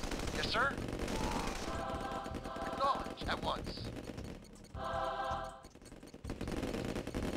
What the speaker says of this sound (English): where's that gunfire coming from?